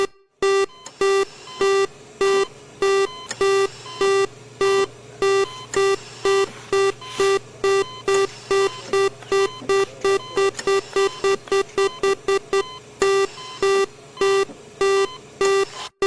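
Steady soft electronic beeps repeat in a quick, even rhythm, clear and close, with nothing else around them.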